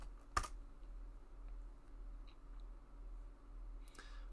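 Someone types a web address into a browser address bar on a computer keyboard. A few faint, sparse key clicks sit over quiet room hum, with no talk.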